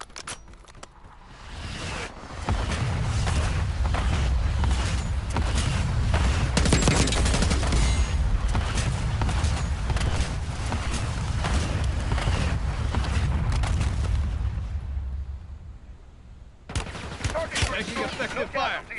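Gunfire in a Black Ops 6 Battle Royale match: sustained rapid bursts and fusillades rattle loudly for about twelve seconds, then stop briefly before more shots resume, with speech mixed in.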